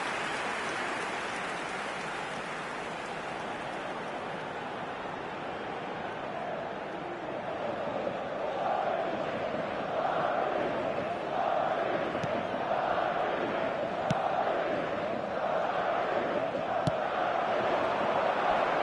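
A football stadium crowd in the eFootball video game cheers and roars, a steady broad swell that grows louder partway through and stays high to the end.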